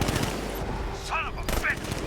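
Gunfire in the video game Batman: Arkham Knight, a dense continuous rattle of rapid shots filling the whole moment, loud and close, with voices shouting over it.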